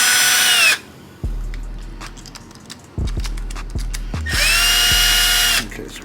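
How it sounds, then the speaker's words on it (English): A power drill backs a screw out of the back of a speaker horn in two loud, close bursts of high whine at the start and near the end, with quieter clicking and short motor pulses between them and no talk. "let me go ahead and take the screw out from the back first"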